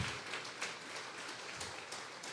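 Church congregation clapping during a Sunday worship service, a dense, steady wash of many hands applauding together, moderately loud and sustained throughout with no talk over it.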